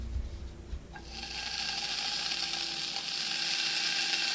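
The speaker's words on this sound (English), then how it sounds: "This is an instant sizzle" Bologna drops into a still-hot pan on low heat and immediately starts sizzling, a bright crackling hiss that begins abruptly after a quiet moment and carries on steadily.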